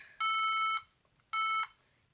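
Two loud, sustained electronic beeps from a DeltaLab chromatic tuner and metronome, each about half a second long with a short pause between, piercing and close, with a faint click in the gap.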